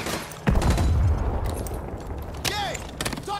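Gunfire in the Call of Duty Modern Warfare 2 Remastered video game: a sharp burst of shots, then sustained firing and mechanical clatter, with another loud blast and whistling effects near the end.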